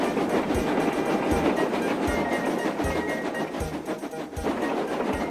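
A steam train from the Railway Series rushes along at high speed, a dense continuous rumble of wheels with regular low clickety-clack beats running steadily throughout, loud and close with no voices.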